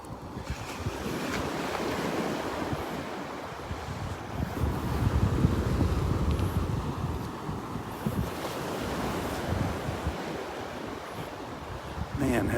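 Waves breaking and wind blowing on Vanderbilt Beach, a steady roar of surf with gusty wind buffeting the microphone throughout.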